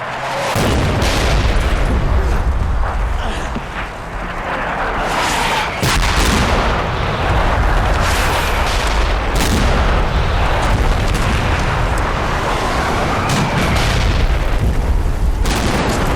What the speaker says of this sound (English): To make things worse, the enemy also drops down another artillery barrage on our forces there.